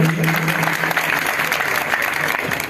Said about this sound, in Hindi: तो एक बार विधायक महोदय जी के लिए भी जोरदार तालियां बजाइए।